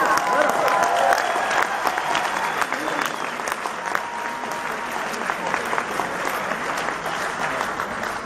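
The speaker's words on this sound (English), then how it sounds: "Give her a round of applause." Sustained audience applause at a teachers' solidarity rally, a dense wash of many hands clapping steadily and loudly for the whole stretch, with crowd noise mixed in.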